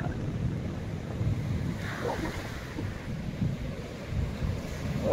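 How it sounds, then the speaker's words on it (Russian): Black Sea waves roll and crash onto the beach at Anapa, a continuous broad surf wash with rising surges, mixed with steady wind buffeting the microphone. "волны врезаются в сушу"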